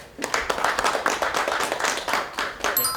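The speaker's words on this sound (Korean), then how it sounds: "여러분 박수로 보시겠습니다." Audience clapping at a citizens' self-governance forum, a dense, close round of many hands applauding steadily, welcoming a speaker.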